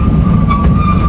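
A train runs on the Ooty rail line, giving a loud, close, steady rumble with a low rolling roar and a faint metallic tone on top, lasting just over a second.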